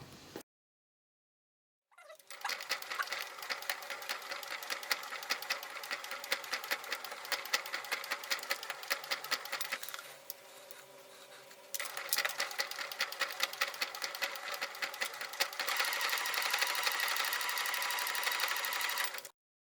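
A sewing machine stitches a lace gift pouch, with fast continuous mechanical whirring and clatter, close up and steady after a brief start, pausing once mid-run before resuming.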